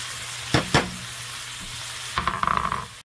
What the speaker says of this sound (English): I'm going to put some more oil and then fry the onion, the vegetables, and then the cabbage.